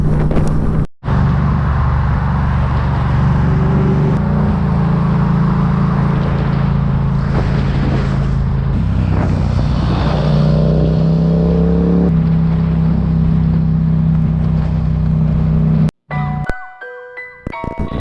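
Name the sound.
car driving on the road at speed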